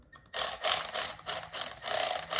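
A 7mm socket ratchet tightens bolts while light bars are mounted on a Can-Am Outlander ATV. Its quick, clicking pawl ratchets in short, close bursts with brief pauses between strokes.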